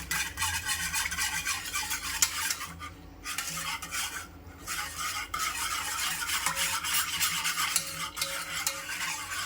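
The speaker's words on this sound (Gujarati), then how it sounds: "હવે આપણે સૌપ્રથમ આ છાશની અંદર આ બેસન છે એ નાખીશું અને હવે એને હલાવી દઈશું." Gram flour stirred into buttermilk for Gujarati kadhi, with a spoon or whisk scraping and swishing continuously against a vessel up close, pausing briefly twice.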